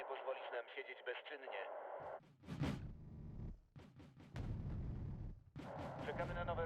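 Mortar fire in the real-time strategy game Red Dragon, heard as deep booming blasts and rumbling impacts under a speaking voice, with game audio crackling around them.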